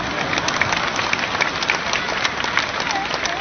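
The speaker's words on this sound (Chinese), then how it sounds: "鼓掌" Applause from a seated audience at a talk in Singapore, continuous dense clapping filling the moment, heard from a slight distance with a faint murmur underneath.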